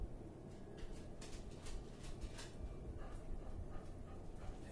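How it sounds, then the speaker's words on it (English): A dog barks and yips somewhere in the background, buried in a steady wash of broadband noise with no talking. "when dogs will not stop barking"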